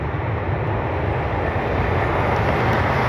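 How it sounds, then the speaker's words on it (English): A Boeing 737-900 jet takes off at night, its engines producing a loud, steady broadband roar that holds constant throughout. "737-900 heading out."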